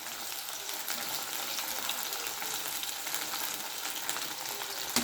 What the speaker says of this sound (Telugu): సో ఇది మనం బాగా ఇప్పుడు స్టిర్ చేసుకొని బాగా ఫ్రై చేసుకుంటాం.